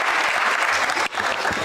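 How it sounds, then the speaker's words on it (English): At the World Toilet Summit 2025, a crowd greets a student speaker from Nepal with a brief burst of thick, continuous applause, loud and even, dipping for an instant before resuming. "So let's have a round of applause for her welcome."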